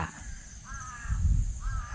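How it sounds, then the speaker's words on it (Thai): Crows from a flock cawing outdoors on a cool evening in the hills, two harsh drawn-out calls a moment apart over a low rumbling background, with no voices. "ดูครับอีกาครับผม"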